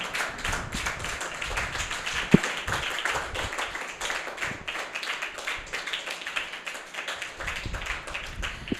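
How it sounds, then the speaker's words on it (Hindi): Students at a mathematics society workshop clap for a guest in a steady, fairly loud round of applause, with a sharp tap standing out early and faint background sound underneath. "बच्चों ज़ोरदार तालियां होनी चाहिए आरिफ सर के लिए"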